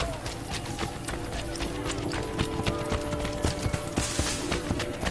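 A horse gallops in Assassin's Creed Brotherhood, rapid rhythmic hoofbeats pounding close and steady for the whole stretch amid game ambience.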